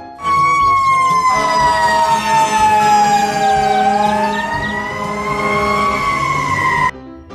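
A toy fire truck siren wails loudly and close by, its electronic tone slowly dipping and rising before stopping abruptly.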